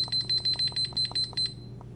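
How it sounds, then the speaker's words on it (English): Aimila digital countdown kitchen timer sounding a rapid series of about a dozen short, shrill electronic beeps in quick rhythm, close and clear over a low background hum. "you hold down this button until you hear a beep"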